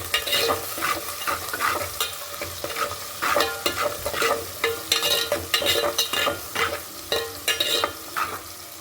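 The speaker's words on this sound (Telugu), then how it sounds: "ఈ ఎరగడ్లు బ్రౌన్ కలర్ వచ్చేదాకా ఫ్రై చేసుకుందాం" Sliced onions frying in hot oil until brown as the base for a fish curry, a continuous sizzle broken by rhythmic, repeated scraping strokes of a spatula stirring the pan, close and loud.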